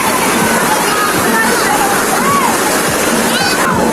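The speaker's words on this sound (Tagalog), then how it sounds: "At ang lalaki ng alon" Broad rushing river water with waves splashing at a bathing spot on the Sto. Cristo River, a steady loud wash filling the whole stretch, with a voice speaking over it.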